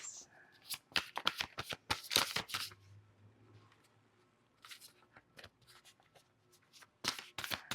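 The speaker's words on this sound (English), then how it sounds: "I already shuffled the cards." Tarot cards are shuffled close by in quick, crisp riffling bursts, with a brief quieter pause before more shuffling near the end.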